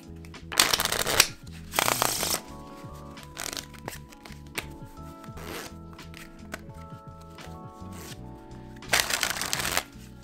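A deck of Fox playing cards being shuffled up close: several crisp, snappy riffling bursts with quieter handling and snapping of the cards in between, no voices.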